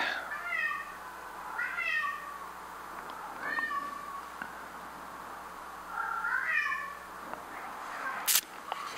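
A cat meows repeatedly indoors, several distinct rising cries spaced a couple of seconds apart, close and fairly clear over a quiet room, with a short sharp click near the end.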